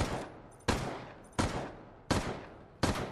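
Automatic turret fire in the Nicholai Re:Resistance game comes as five loud, sharp bursts at a steady rhythm, each one trailing off into a rumbling decay. No one talks over it.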